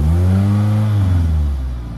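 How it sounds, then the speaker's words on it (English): A Chevrolet Ecotec engine idles and revs up close at a dealer-only car auction, its loud exhaust booming with a deep steady drone that swells and then eases slightly over two seconds, with no talk. "Obviously that exhaust is a little loud."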